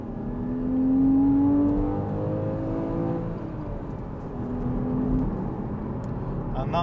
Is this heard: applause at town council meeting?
no